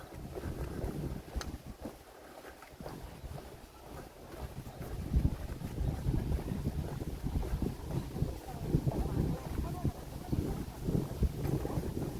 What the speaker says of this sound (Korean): 지금 바람이 불어도 시원합니다